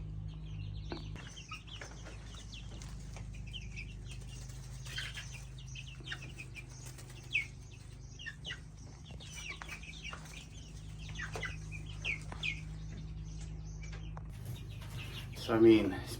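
Backyard homestead chickens cluck in the morning, a flock of about sixteen birds with scattered calls and a brief wing flutter near the end over a steady low hum, with someone talking intermittently.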